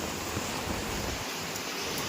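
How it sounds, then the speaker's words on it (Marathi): Heavy monsoon rain pours steadily in a village, a dense, loud, unbroken hiss with no gaps and no voices. "पाऊस बघा किती झालं आहे, गावतावर पाणीच पाणी, रस्त्यावर पाणीच पाणी।"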